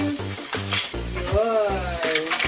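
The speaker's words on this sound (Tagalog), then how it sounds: "pwede na natin ilagay ang ating tahong" Mussels hit a hot pan of butter and oyster sauce, raising a loud, close sizzle with rhythmic stirring clatter, while a voice talks over the frying.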